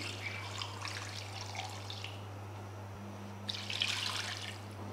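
Water runs and splashes into a cooking pot holding mutton over a lit stove in a home kitchen, a soft, steady trickle rising briefly toward the end over a low constant hum.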